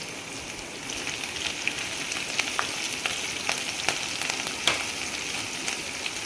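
Garlic and green chillies frying in a pan for potato and spinach bhurji, a steady close crackling sizzle with scattered small pops and faint stirring, no voices.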